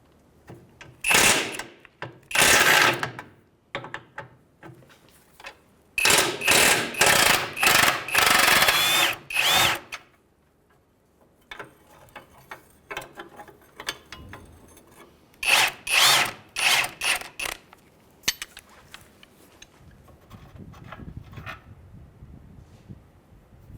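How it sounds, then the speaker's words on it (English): An impact wrench works on a 19 mm lower control arm bolt on a 2015-2019 Hyundai Sonata, firing in several loud, close rattling bursts separated by quiet pauses. "we're going to do is use a wrench up on top and an impact down the bottom."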